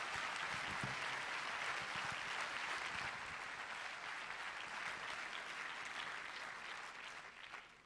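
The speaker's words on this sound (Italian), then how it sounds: "a cui dedichiamo un applauso" An audience at Teatro Toniolo in Mestre applauds warmly and steadily, a dense wash of clapping that tapers off toward the end.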